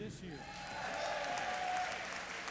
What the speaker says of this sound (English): Give a big round of applause if you are with us this year.